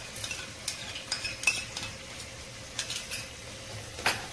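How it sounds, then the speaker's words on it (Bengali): Spiced masala stirred and frying with sour yogurt in a pan for a Bengali katla kalia fish curry, with steady close sizzling and intermittent scraping clinks of a spatula against the pan. "মশলাটা 5 মিনিট কষিয়ে নিয়েছি ভালো করে, এরপর আমাদের টক দইটা দিয়ে দিই"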